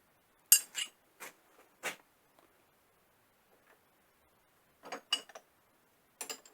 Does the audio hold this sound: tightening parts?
yes